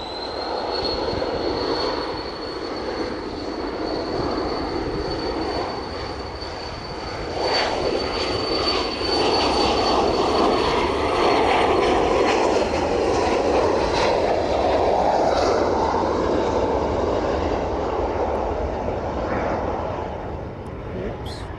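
An aircraft engine roars steadily at East Midlands Airport in the evening, a broad continuous rumble with a high whine, swelling slightly midway while someone talks over it.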